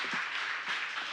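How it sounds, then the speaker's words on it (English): Audience applause at a live education and leadership talk: a short spell of steady, diffuse clapping from a crowd, moderately faint and heard alone. "Give yourselves a round of applause."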